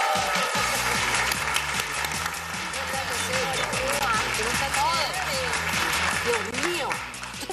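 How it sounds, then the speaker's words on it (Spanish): Studio audience applauding for actress Josette Vidal, steady dense clapping with cheers and crowd noise throughout, loud and close, easing slightly at the end. "¡Un aplauso para ella!"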